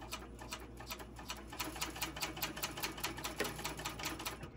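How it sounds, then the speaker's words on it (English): Sewing machine stitching one end of a canvas-style bucket bag at a 3/8-inch seam, a steady fast run of close, even needle clicks with no talking. "I'm going to stitch one end, then put the hardware on."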